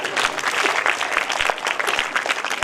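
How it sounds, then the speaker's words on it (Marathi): An audience at a school event claps loudly and steadily, a dense burst of many hands close by with no talking. "याबद्दल जोरदार टाळ्या वाजवायच्या आहे"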